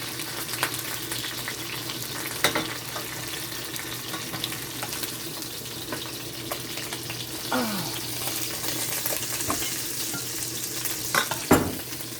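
Fish sizzling as it fries in a pot, with a steady crackle of oil broken by a few louder spits and clatters, close by and fairly quiet, with no voices.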